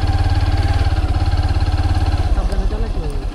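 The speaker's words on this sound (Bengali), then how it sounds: "বাইক কিন্তু পুরাই স্কিড করতেছে" A motorbike engine chugs in a fast, steady rhythm while riding off-road on a sandy track through a tea garden, skidding in loose sand, then the revs shift; a voice speaks over it.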